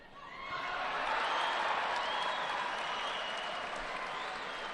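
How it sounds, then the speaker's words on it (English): A crowd roars and applauds at a judo Grand Prix in Tashkent, cheering for action on another mat. The sound swells quickly into a dense, continuous wash of clapping and shouting, heard from a distance and holding steady throughout. "Big cheer up for the other mat"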